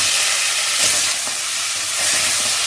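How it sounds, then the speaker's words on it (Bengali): Soaked potatoes frying in hot oil just after fish were fried in the same pan, giving a steady loud sizzle with a few soft stirring bumps and no talk. "আমার মাছ ভাজা হয়ে গেছে, এবার আলুগুলো ভাজবো।"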